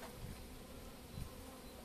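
Honey bees buzz steadily around a hive being opened to check on a supersedure queen cell, a continuous close hum with a few brief louder swells.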